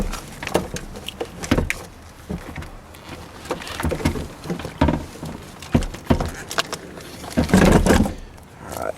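A new car battery is tilted back into the tray of a 2002 Cadillac DeVille, heard as close, irregular thumps, knocks and scrapes of the heavy battery and metal parts, with short pauses between handling noises.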